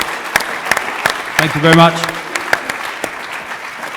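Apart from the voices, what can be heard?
audience applause for Drew and George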